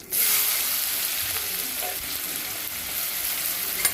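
Onion sautéing with cumin seeds and a pinch of asafoetida in hot oil, a close, steady sizzle that holds evenly from start to finish.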